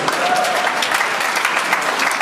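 A church congregation clapping at a Pentecostal wedding service, brisk, continuous and fairly loud, with many hands at once.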